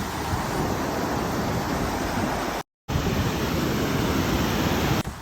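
A loud, continuous rush of flowing river water, broad and steady, broken by one brief dropout midway.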